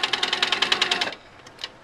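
A sewing machine runs in a quick, steady burst of stitching through quilt fabric for about a second, then stops, leaving a short gap and one faint final click.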